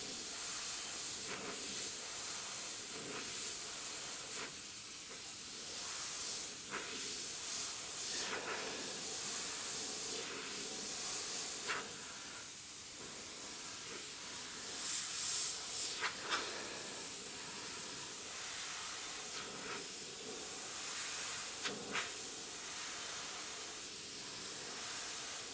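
An airbrush sprays transparent black paint onto a Harley front fender, a steady close hiss that runs throughout with brief swells and pauses as the trigger is worked, and no talking.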